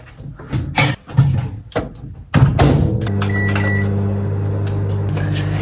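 A microwave oven is handled with several clunks and a door shutting, then starts up and hums steadily while heating a portion of lasagna, the motor drone close and constant.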